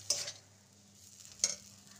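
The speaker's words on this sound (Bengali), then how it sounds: "ভালো করে মিশিয়ে নেব।" Semolina snack filling stirred in a pan, two short scraping strokes of a spatula about a second apart over a faint low sizzle, close and quiet.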